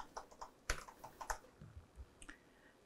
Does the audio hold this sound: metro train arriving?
no